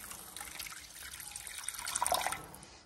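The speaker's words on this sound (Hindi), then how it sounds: "थोड़ा सा पानी ऐड करेंगे" Water poured into Manchurian gravy in a pan, a soft trickling splash that builds gradually and is loudest near the end, with no talking.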